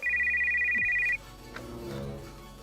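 A phone ringtone trills steadily and loud for about a second before cutting off as the call is answered, followed by quiet room sound.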